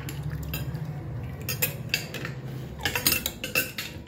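A spoon knocks and scrapes against a pot while a chatpata mixture of amla in salted water is stirred, irregular clinks and clatters in quick bursts, close by with no talk.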